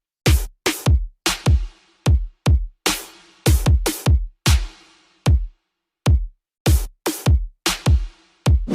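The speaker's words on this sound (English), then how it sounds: "make a nice sounding drum loop like this." A punchy electronic drum loop at 150 BPM, with hard kicks and sharp snare hits repeating in a tight, steady pattern.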